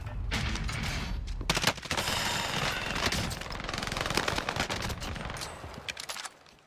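Rapid automatic gunfire from a Call of Duty Warzone match, bursts of shots firing continuously and loudly for several seconds with brief gaps, close up and with no talking.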